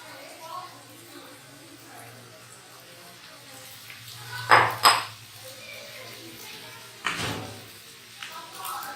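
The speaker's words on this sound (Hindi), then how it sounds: "इसमें ये पास्ता ऐड करेंगे।" Pasta goes into a pan of piri piri chicken sauce and gets mixed, a few sharp metallic clanks and scrapes of utensil against pan over a quiet kitchen background, with faint voices.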